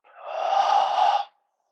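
A deep, steady exhale lasting just over a second during a qigong breathing exercise, breathy and close, rising smoothly and then cutting off cleanly into silence.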